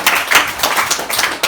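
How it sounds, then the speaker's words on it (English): Students at a self-confidence session at Isawo school in Ikorodu give a brief round of applause, a short burst of loose, nearby clapping lasting under two seconds, with no speech over it. "Please give David a round of applause."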